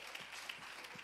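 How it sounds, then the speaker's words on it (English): A church congregation at a Wednesday evening Bible study claps in praise, a brief, quiet spatter of many hands at a distance. "Let's give him a hand clap of praise"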